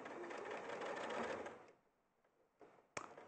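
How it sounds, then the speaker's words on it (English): A sewing machine runs steadily at moderate volume as it stitches down each side of quilt fabric, then stops. A couple of faint clicks follow in the quiet afterward. "So all I'm doing is sewing down each side"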